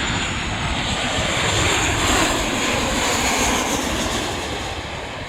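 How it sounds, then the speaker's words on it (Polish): Jet airliner touching down and rolling out at the Los Angeles airport, a loud, steady broadband engine roar that swells slightly midway and holds throughout without any talk. "Właśnie wylądował samolot."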